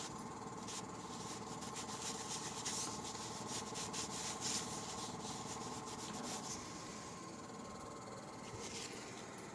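Steady rubbing and scrubbing of a repair compound into a scratched hardwood floor, a continuous close-up friction sound with no talking.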